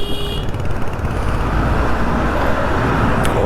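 Steady roadway rumble of a few passing vehicles near Manali, a continuous broadband wash of traffic noise with no talking.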